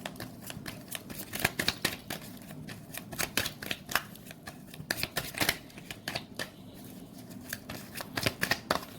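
A deck of tarot cards being shuffled by hand, cards dropping and slapping in quick irregular bursts of crisp riffling that carry steadily throughout, close up with no talk.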